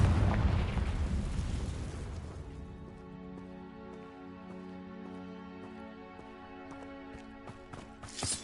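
The Confringo fire spell bursts in Hogwarts Legacy with a loud rumbling explosion that decays over about two seconds, followed by a ringing magical tone and a few small crackling pops.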